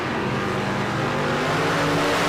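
Drag racing cars roar at full throttle at Las Vegas Motor Speedway, a loud, sustained, dense engine blast with no speech.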